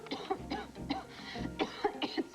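Several short, raspy coughs in quick bursts, close by, with a low rumble underneath and no clear talking.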